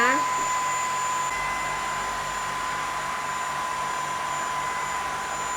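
A Mister Clean Duo Slide cordless vacuum in Eco mode whirs steadily with a high-pitched whine, starting as it powers up and holding a constant drone.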